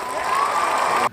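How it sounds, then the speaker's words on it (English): A brief burst of crowd applause with light cheering rings out steadily at close range, then cuts off abruptly after about a second. "We need a round of applause for that."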